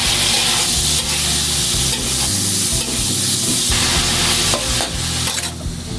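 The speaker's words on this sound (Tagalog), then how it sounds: "Hahaluin po natin ng bagya." Onion, garlic and crushed black pepper sautéing in a pan as they are stirred, a loud continuous sizzle broken by repeated scraping strokes of the spoon, close up with no voices.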